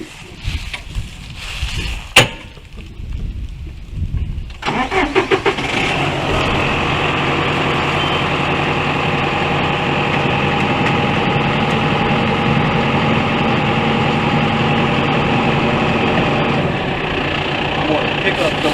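A tractor engine cranks and catches on a farm, then settles into a steady, loud, continuous idle with a rough mechanical rattle that holds for the rest of the stretch, preceded by faint handling noises.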